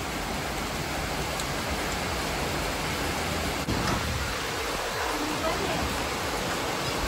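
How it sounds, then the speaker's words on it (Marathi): Heavy rain pours steadily in the early evening, a dense continuous hiss of falling water that stays loud and even throughout, with faint voices briefly audible partway through. "मित्रांनो बघा, जोरदार पाऊस चालू झालेला आहे."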